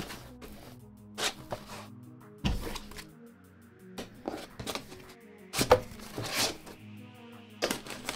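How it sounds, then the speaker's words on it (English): Tin snips cut sheet metal in a PC case while building a computer, giving a series of sharp, close crunching snips and clicks in irregular bursts separated by short quiet gaps. "cuts some of it with tin snips"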